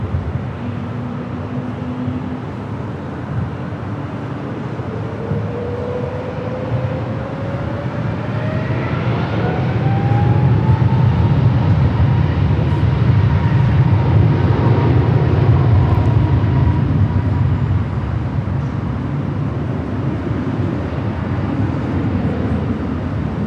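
A Delta airliner taking off from runway 24 left at LAX, a jet roar that swells to a loud broadband rumble with a rising whine, then holds steady as the aircraft passes nearby.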